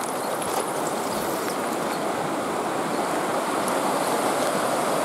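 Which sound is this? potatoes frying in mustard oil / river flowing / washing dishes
river flowing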